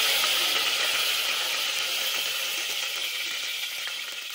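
Curry leaves frying in hot oil for a Nellore-style uppanchula curry, a steady bright hiss and crackle that holds for several seconds and fades slightly toward the end, with no voices.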